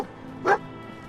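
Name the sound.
dog barking in Fallout 4 video game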